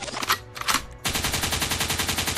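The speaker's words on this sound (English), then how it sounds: "a gunshot means forward" Gunshot sound effect dropped into a DJ mix: a couple of sharp blasts followed by a rapid, loud machine-gun rattle of evenly spaced shots that runs to the end.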